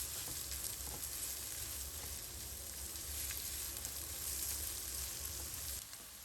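Onions sauté lightly in a pan for chicken fajitas, giving a continuous soft sizzle and crackle with occasional faint stirring, close but fairly quiet and without talk.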